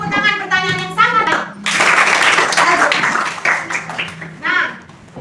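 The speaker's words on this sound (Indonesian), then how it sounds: "Oke, tepuk tangan pertanyaan yang sangat." Children in a classroom clap their hands together for a short burst in the middle, with speech heard before and after it.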